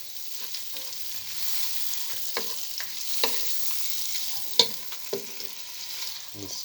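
Veal fillet browning in a frying pan with a soft, steady sizzle, punctuated by several distinct scrapes and knocks of a wooden spoon stirring the meat, fairly quiet and close.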